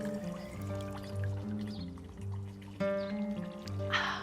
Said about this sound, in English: fountain water in Switzerland is drinkable